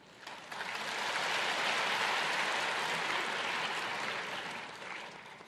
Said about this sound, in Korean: 한번 박수로서 감사하십시오.